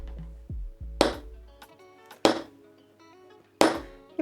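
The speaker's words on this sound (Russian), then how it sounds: "И со всей силы пробивайте точку." Three sharp, loud hammer blows on stone, spaced about a second apart, each ringing briefly, as a petroglyph dot is chiseled into rock in Karelia, with quieter clinks in between.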